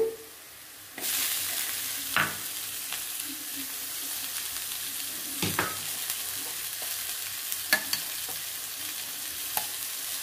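Capsicum dropped into a hot pan for egg curry sets off a sudden loud sizzle that holds steady, with a few sharp spatula scrapes and taps against the pan.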